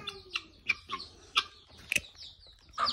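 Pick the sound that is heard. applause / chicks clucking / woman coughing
chicks clucking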